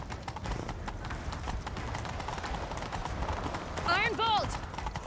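A horse gallops in The Witcher 3 video game, with rapid, continuous hoofbeats, near and steady throughout, alongside game sounds and a brief horse whinny near the end.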